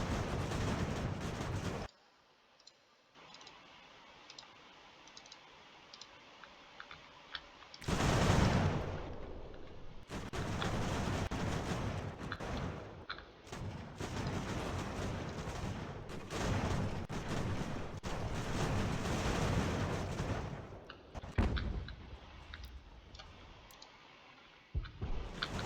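Cannon and musket fire roar through a battle in Ultimate General: American Revolution: dense, continuous booming and crackling volleys with brief lulls and clicking interface sounds, steady and loud for most of the stretch without talking.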